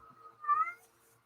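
A cat with pink eye gives a single short, mid-pitched meow that swells and fades within half a second, close by over a quiet, faintly humming room, with no voices.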